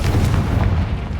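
A Confringo fire spell bursts in Hogwarts Legacy with a loud, heavy booming blast that rolls on through the short moment, with no voices heard.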